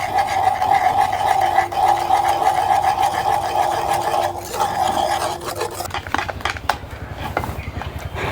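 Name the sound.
stirring and mixing cake batter ingredients together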